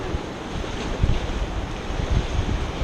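River water rushes and splashes around a raft running rapids in Brown's Canyon, a steady broadband wash with heavier surges of splash about one and two seconds in, fairly close and loud with wind buffeting the microphone.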